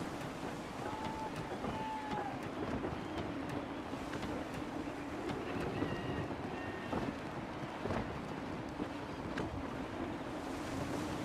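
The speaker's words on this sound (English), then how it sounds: "Wind looks to be shifting. Stay alert, Connor. Gusty winds can be difficult to manage." Steady wind roaring over open sea in Assassin's Creed III, a continuous broadband rush with waves and a sailing ship creaking underneath, no clear gust peaks standing out.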